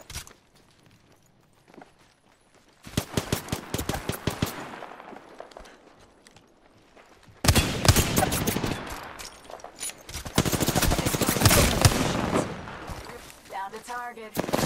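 Gunfire from a video game shooter rattles out in dense automatic bursts, loud and close. Long sustained volleys come in two main stretches separated by a quieter pause, with no spoken words over them.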